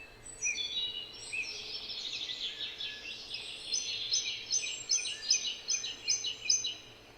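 Several birds chirp and call in quick, repeated high twittering phrases, moderately close, over a quiet background hum with no speech.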